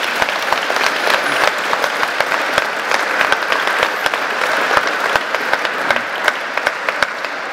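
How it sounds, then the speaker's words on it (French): A crowd applauds the speaker Cyprien Divaret, loud, steady, dense clapping throughout, with individual sharp claps standing out near the front and no talking. "Je vous prie d'applaudir une deuxième fois Cyprien Divaret."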